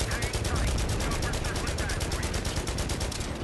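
A .50 cal machine gun firing in Battlefield 3: a long, continuous, rapid stream of evenly spaced heavy shots, loud and close, running the whole time.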